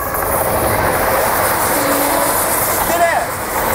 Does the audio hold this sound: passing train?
yes